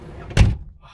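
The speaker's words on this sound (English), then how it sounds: "let's close this door" A car door on a 1998 Nissan 240SX S14 slams shut with a single close, heavy thunk, followed by quiet cabin ambience.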